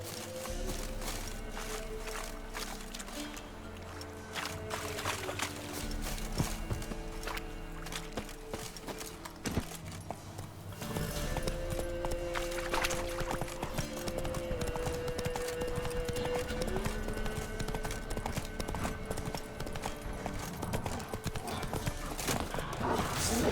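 Horse hooves clip-clop steadily at a walk and trot in The Witcher 3 video game, with occasional whinnies and neighs over a continuous music score and ambient game sounds.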